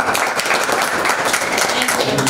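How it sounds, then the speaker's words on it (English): Dense, loud applause for teachers at a junior high school workshop, many people clapping continuously in a short, energetic burst. "One more big applause for the teachers."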